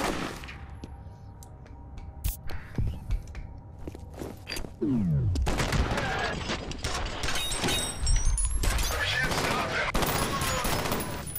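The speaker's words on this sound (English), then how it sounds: "This gun is immensely powerful." A powerful gun in the game FEAR fires a run of sharp, rapid shots with metallic clatter and crunching impacts that rise into dense, loud bursts in the later half.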